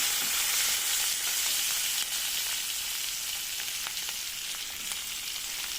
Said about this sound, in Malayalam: ഒരു പിടി വെളുത്തുള്ളി ചതച്ചതും ഒരു പിടി കറിവേപ്പിലയും ചേർത്ത് കൊടുക്കുന്നുണ്ട്. ഇവയെല്ലാം ചേർത്ത് കൊടുത്ത് ഇതൊന്ന് സോട്ട് ചെയ്തെടുക്കാം.